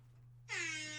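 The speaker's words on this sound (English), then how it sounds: "The reggae foghorn was gold, Josh." A reggae-style air horn blasts in abruptly halfway through, a loud sustained harmonic tone held to the end over a steady low electrical hum.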